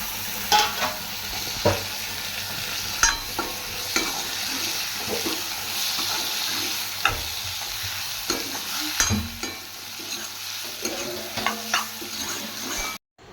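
Ginger garlic paste fries in a pan with a steady close sizzle, broken by regular scrapes and light clinks of a spoon stirring against the metal.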